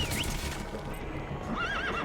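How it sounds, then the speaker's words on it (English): A horse in the Metal Gear Solid V video game whinnies twice, a short squeal near the start and a longer wavering neigh toward the end, over low clip-clop and game ambience. "Horse?"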